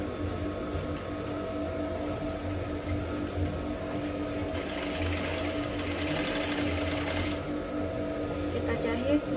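A sewing machine runs steadily, stitching fabric in a circle around the waistband of a half-circle skirt, a continuous hum that brightens midway, with a voice talking over it.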